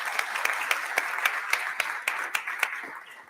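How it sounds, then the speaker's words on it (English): An indoor audience at an EU trade policy conference applauds a panel of speakers with a steady wash of clapping. Sharper individual claps stand out at a regular pace throughout, and the sound thins slightly toward the end. "I would like to suggest a warm applause to Maria Martin Pratt, Luisa Santos, and Bernd Lange."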